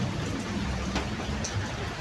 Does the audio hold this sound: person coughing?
no